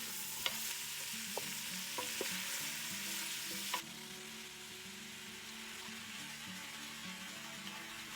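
Brown onions fry in hot oil for a green chili sauce, a steady soft sizzle with a few faint clicks, quiet and even throughout.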